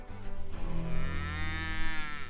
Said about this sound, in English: These are some of my cows.